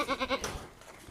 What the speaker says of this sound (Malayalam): ഇതാ നല്ല ഒറിജിനൽ മലബാറി ആട്